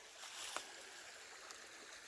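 A creek runs through Pine Creek Gorge as a faint, steady wash of flowing water in the distance, with a couple of soft splashy ticks on top and no voices.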